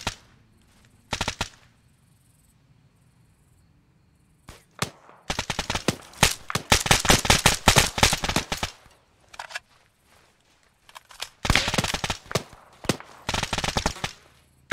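Gunfire in the military shooter ArmA 3, with rapid automatic bursts and scattered single shots in several clusters, loud and close, broken by short quiet gaps.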